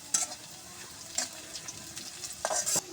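Green chilies, garlic cloves and cumin fry in a pan for a greens dish, producing a light continuous sizzle broken by a few sharp spatula clinks and stirring scrapes, with no one talking.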